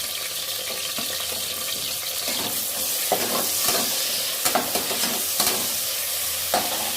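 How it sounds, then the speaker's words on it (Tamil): Onion, fennel and stone flower crackle in hot oil with a loud, steady sizzle, broken by several sharp spatula clinks and scrapes as they are stirred. "பாருங்கள், எண்ணெய் காஞ்சிடுச்சு. இப்போ நம்ம வந்து வெங்காயம், சோம்பு, கல்பாசி இதெல்லாம் போட்டுக்கலாம்."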